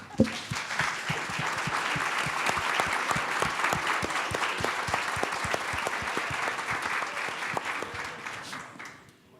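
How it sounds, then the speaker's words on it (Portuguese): An audience at a startup talk session on gastronomy claps for a speaker, dense, even applause sustained for about nine seconds and fading toward the end. "pedir uma salva de palmas para ele"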